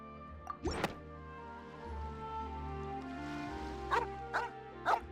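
A puppy in the video game Genshin Impact gives several short barks, with one near the start and a quick pair toward the end, heard over a sustained musical game soundtrack.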